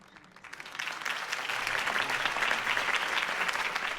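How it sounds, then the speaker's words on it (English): Crowd applause after Harvey Dent's campaign speech in the video game Batman The Telltale Series, swelling from a quiet start into sustained, dense clapping from a large audience, slightly distant. "If only Mr. Wayne, my campaign's largest backer, could have heard that applause"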